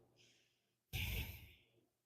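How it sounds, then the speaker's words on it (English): A slow calming breath, a soft inhale followed by a louder, longer exhale that fades out, close and alone. "My words help me calm down. I breathe."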